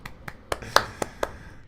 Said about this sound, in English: Round of applause from me.